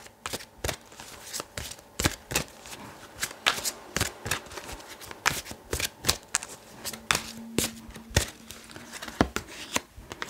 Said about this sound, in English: I'm just going to shuffle these around a little bit.